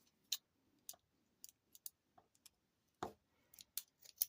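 Small scissors snipping bead thread, a scattering of faint, crisp clicks and short cuts at uneven intervals in a quiet room during jewelry beading.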